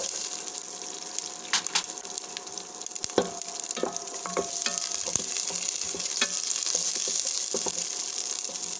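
Chopped onions fry in a pan with a steady close sizzle, broken by scattered crackles and spatula scrapes as they are stirred.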